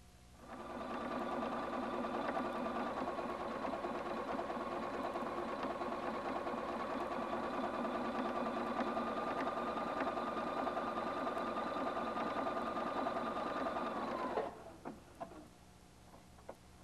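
A Husqvarna Viking Platinum 770 sewing machine stitching a folded elastic fabric strip between sleeve layers, running at a steady fast whir for about fourteen seconds before stopping, followed by a few faint clicks.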